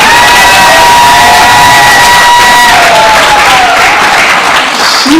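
A large crowd at a school's 8th grade graduation ceremony cheers and applauds loudly and continuously, with whoops rising above the dense clapping.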